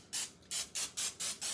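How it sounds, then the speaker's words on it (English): Pam cooking spray hisses into a pie plate in six short, evenly spaced bursts, close and fairly quiet, with no voices over it. "I'm just gonna spray that lightly."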